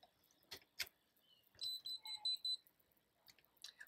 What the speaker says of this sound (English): I forgot it beeps when you lock it